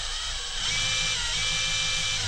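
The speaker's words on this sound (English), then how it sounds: "What you do is you put your drill on it and pump away." A power drill drives a small pump to transfer liquid, giving a steady high whirring motor whine with a faint rattling undertone that rises slightly in pitch after a brief start.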